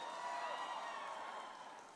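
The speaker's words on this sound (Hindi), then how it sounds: "जोरदार तालियां हो जाए" A Navratri audience at a concert gives loud, sustained applause, a dense wash of clapping that slowly fades, with no voices heard over it.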